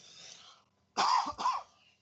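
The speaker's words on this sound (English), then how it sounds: "after your coughing fit" A short coughing fit: two harsh, close coughs with a throat-clearing quality, preceded by faint murmuring.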